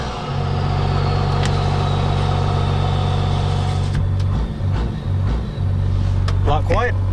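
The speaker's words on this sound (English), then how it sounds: "You want to hear your exhaust pipe" Exhaust of a 1996 truck with a hillbilly smoke stack idling, a steady loud low rumble throughout with people talking over it near the end.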